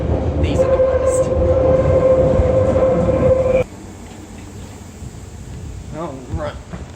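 A London Underground train on the TfL network rumbles loudly with a sustained whine, then cuts to quieter station ambience where people talk.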